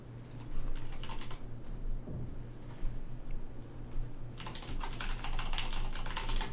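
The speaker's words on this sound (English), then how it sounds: "let me just send it over. I'll just type it out." Steady close typing on a computer keyboard, a dense run of key clicks that pauses briefly midway and then resumes faster.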